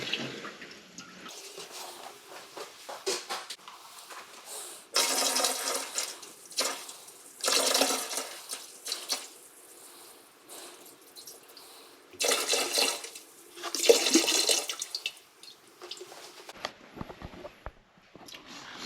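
Antifreeze poured into the ice box of a race truck being readied for winter storage, heard as close bursts of splashing, gurgling liquid in several separate pours with quieter gaps between them.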